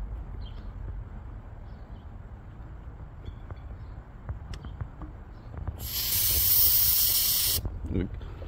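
Refrigerant gas mixed with oil hisses out of an air conditioner system being purged, a loud steady spray lasting nearly two seconds after a stretch of low background rumble and faint ticks.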